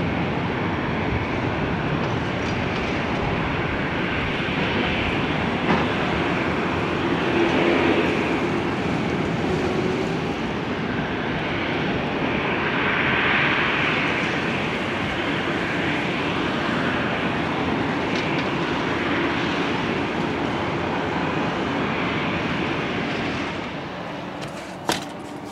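Aircraft on the airport apron at Terminal C, Dusseldorf, heard from a hotel window as a continuous loud broadband engine roar that swells slightly, then eases near the end.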